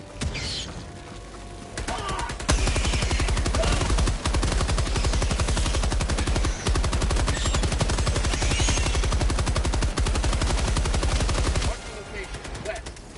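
Machine gun fire in Helldivers 2 while fighting bugs: a long, loud, continuous rapid burst of shots that runs for about nine seconds before stopping, with voices calling out over the din.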